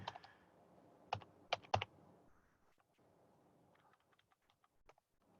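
Typing on a computer keyboard in Microsoft Word, a few loud close key clacks at the start, then a run of faint, quicker light taps, with no talking.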